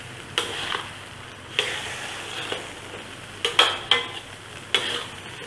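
A chicken and fermented soybean stir-fry being stirred in a pan, with a steady sizzle under sharp scraping strokes of a utensil. Several irregularly spaced strokes come close together near the end.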